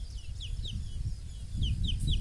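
Several short, high chirps from a chick in a village near Sivas, Turkey, repeated in quick succession over a low background rumble.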